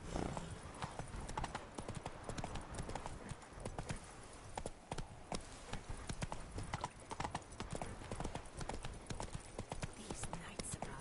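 Roach, the horse in The Witcher 3: Blood and Wine, gallops with steady, close clip-clop hoofbeats running the whole way through, with soft voices murmuring underneath.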